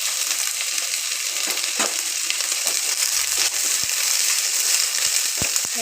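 Capsicum stir-fried in a hot pan gives a continuous close sizzle with crackling pops and occasional scraping knocks from stirring. No voices are heard.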